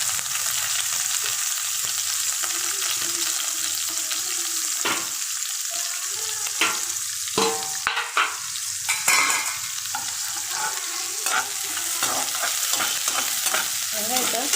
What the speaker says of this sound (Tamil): வெங்காயத்தை நல்லா வதக்கிக்கோங்க ஃப்ரெண்ட்ஸ்